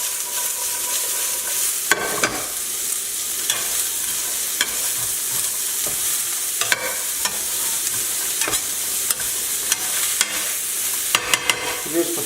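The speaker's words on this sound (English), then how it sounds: "And we're going to mix it together." Succotash frying in a pan is mixed together, with continuous loud sizzling and irregular scraping stirs spread across the whole stretch.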